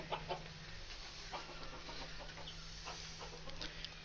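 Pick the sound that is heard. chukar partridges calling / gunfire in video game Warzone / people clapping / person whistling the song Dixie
chukar partridges calling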